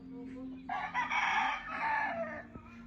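A pure Kanawayon gamefowl broodcock rooster gives a single full crow, close and clear, rising sharply and holding for nearly two seconds before trailing off, with a faint low hum underneath.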